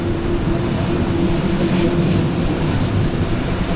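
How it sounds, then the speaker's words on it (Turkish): Waterfalls fed by melting glaciers pour into a pond, making a steady, continuous rushing roar that stays even throughout with no voices. "Şelaleler buraya akıyor."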